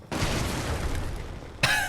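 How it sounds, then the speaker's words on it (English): A loud explosion in the video game Fallout 76 produces a sustained, roaring burst that lasts over a second, then gives way to a sharper second blast. "Thank you for that helpful explosion."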